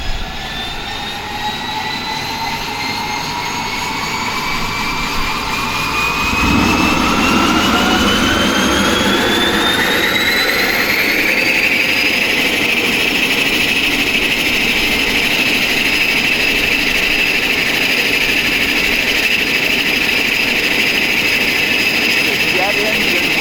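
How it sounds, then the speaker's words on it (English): A turboprop aircraft engine spooling up from start, a rising whine climbing steadily over roaring turbine noise, loud and close, then settling into a sustained high-pitched hum. "Jet engine with a prop on the front, turbo prop."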